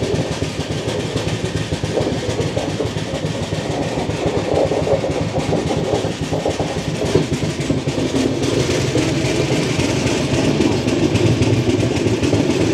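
Steady loud rumble and rattling clatter inside an Indian passenger coach on a Hyderabad to Delhi train as it slows down, continuous throughout with no clear pauses.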